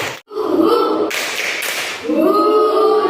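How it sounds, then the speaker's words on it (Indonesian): Classroom of students doing the rhythmic tepuk semangat clapping chant during an Islamic lesson on qada and qadar, with voices chanting together over claps in a short, loud burst. "Sekarang tepuk semangat."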